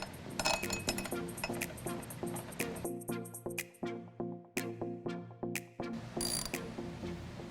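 Hardware for Jeep Wrangler JK A-pillar LED light mount brackets is fitted and tightened, with close rapid ratchet clicks in short rhythmic bursts and a few metallic clinks.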